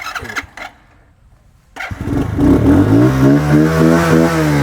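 A motorcycle engine cranks briefly on the electric self-start, falls quiet for a moment, then fires and settles into a loud, steady idle close by.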